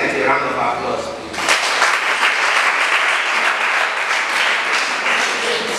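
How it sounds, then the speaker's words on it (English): An audience at a program bursts into dense, sustained applause that starts suddenly after a brief murmur and holds steady and loud to the end. "So please, would we all give for attendance a round of applause?"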